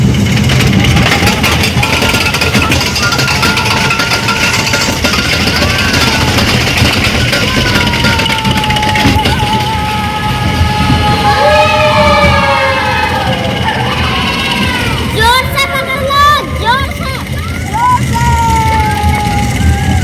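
An amusement park ride at a water park runs with a steady mechanical hum and whirring tones that rise and fall, while a crowd of people chatter and shout loudly around it.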